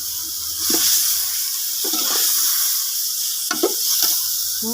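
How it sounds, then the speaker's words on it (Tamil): A pot of chicken curry for biryani bubbles and sizzles steadily on the stove, with a few clinks and stirring noises over the simmer. "கறி நல்லா தண்ணி கொதிக்குது"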